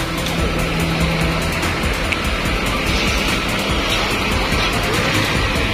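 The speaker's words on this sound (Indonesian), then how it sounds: "Siang ini di loket ALS Cililitan kedatangan bus ALS 109." An ALS 109 intercity bus on a Surabaya trip pulls into the Cililitan ticket office, its engine a steady, dense roar close by amid broadband traffic noise.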